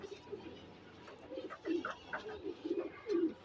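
Soft, low pigeon coos repeat in short rolling phrases, close by and fairly quiet against faint background noise.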